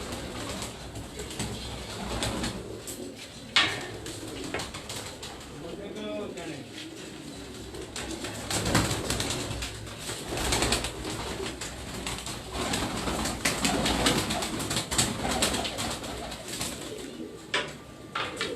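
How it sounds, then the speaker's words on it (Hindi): Pigeons coo softly on a city rooftop, repeated low throaty calls with occasional wing flaps, close by, while people talk at times. "जो मुझे पसंद है कबूतर, ये उसके अभी बच्चे निकले हुए हैं।"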